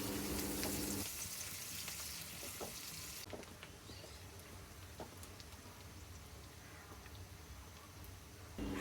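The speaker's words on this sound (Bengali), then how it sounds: "পেঁয়াজটা একটু ভেজে নিচ্ছি।" Chopped onion sizzles steadily in oil in a cooking pot, a dense continuous frying hiss that stays close and even, with a few small pops and no talking.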